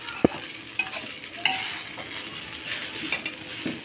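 Nasi goreng stir-fried in a pan, with a steady sizzle and intermittent scraping and clinks of a utensil against the pan, close and alone without talk.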